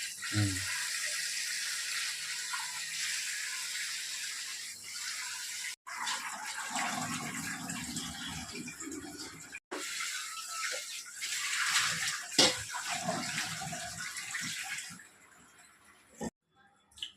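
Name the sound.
water running while washing soaked lentils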